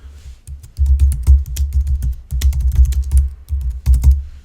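Close, loud typing on a computer keyboard, with fast irregular bursts of keystrokes and short pauses between runs and no voice.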